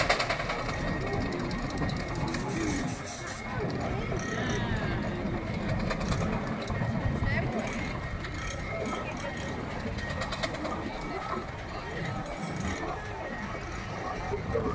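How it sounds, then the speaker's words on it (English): A Fowler steam engine built by John Fowler of Leeds runs at a steam rally, giving off a steady mechanical clatter and rhythmic chuffing amid crowd noise and nearby talk. "Fowler engine here, there we are"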